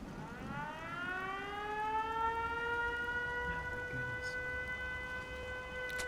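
An air raid siren wails in a Fallout 4 settlement, its tone rising and then holding a long, sustained howl at moderate distance, with faint rain-like patter underneath.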